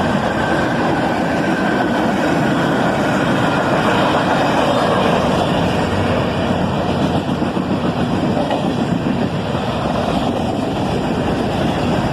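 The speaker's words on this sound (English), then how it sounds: "A big cut of covered hoppers here." CSX freight train rolling past with a long string of covered hopper cars, a loud continuous rumble and rail noise close by throughout, with faint clickety-clack over the wheels.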